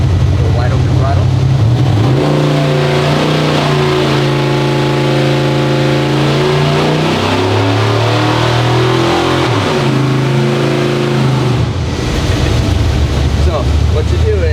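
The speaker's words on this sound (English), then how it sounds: "Wide open throttle." An old school small block Chevy V8 at wide open throttle, loud and close, climbing in pitch through sustained revs then dropping back, with rising and falling harmonic sweeps; voices talk briefly under the roar.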